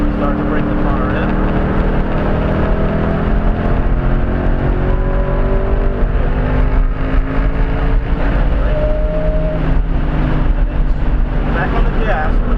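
A race car engine on throttle at Road America drones loudly and continuously, its pitch sliding and holding through a corner, with a voice talking over the in-car roar.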